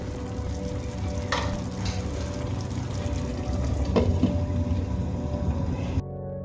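Potatoes and chuna fish simmering under a lid in a pan, a steady close bubbling sizzle with a couple of brief clinks, ending abruptly.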